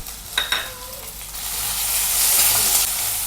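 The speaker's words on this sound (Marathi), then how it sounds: "याच्यामध्ये मी 1 टोमॅटो घालते बारीक चिरलेला आणि हा सुद्धा परतवून घेते।" Finely chopped tomato is stirred into onion in a hot pan, with a couple of sharp scraping knocks up front and then a rising, steady sizzle close by.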